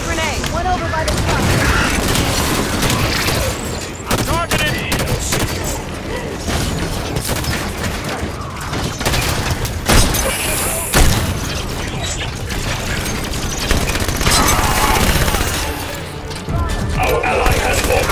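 Grenade thrown and detonating during a Halo 5: Guardians evacuation mission, with booms and crashes landing among dense game combat noise, gunfire and music.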